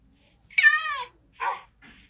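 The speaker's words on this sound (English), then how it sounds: "I guess I'll make my cat sit." A cat meows in a Minecraft village, one clear drawn-out meow followed by two shorter, softer meows, with no talking.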